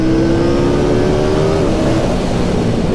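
KTM Duke 890 motorcycle engine revving hard while riding, a loud, close, sustained roar with a steady rising-then-falling engine tone and no talk over it.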